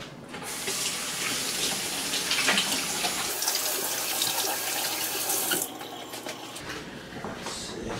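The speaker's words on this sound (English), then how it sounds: "after I wash my hands off" Steady stream of tap water pouring into a sink during handwashing, loud and close, a continuous splashing rush that shifts in tone midway as the flow changes.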